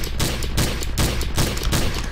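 Video-game gunfire rattles in rapid, dense bursts, loud and close, with sharp repeated shots filling the whole short stretch and no voices.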